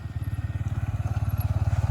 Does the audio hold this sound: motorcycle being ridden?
yes